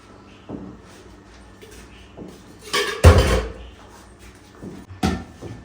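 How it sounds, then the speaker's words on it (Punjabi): Dishes, pots and pans being washed in a kitchen, with intermittent clanks and knocks of metal utensils and one loud clatter mid-way, separated by quieter rinsing moments. "ਕਿੰਨੇ ਭਾਂਡੇ ਹੋ ਜਾਂਦੇ ਜਿੰਨੇ ਮਰਜ਼ੀ ਧੋਂਦੇ ਰਹੋ"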